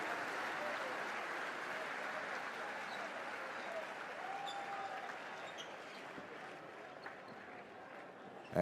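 Arena crowd clapping at a New Zealand versus Philippines basketball game, steady and moderately distant, with faint court sounds and commentary voices mixed underneath.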